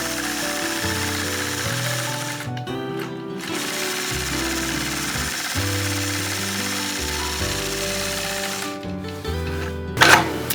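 A sewing machine stitches crossover curves on a quilt with a ruler, running steadily for about ten seconds with a constant mechanical hum and rapid needle rhythm, briefly pausing near the start, with a sharp louder burst near the end.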